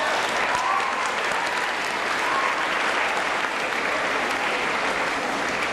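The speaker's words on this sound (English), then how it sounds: "Let's give a round of applause for the arts and foreign language teachers." Audience applause at an 8th grade school ceremony, a steady, dense wash of many hands clapping that fills the room evenly for several seconds with no talk over it.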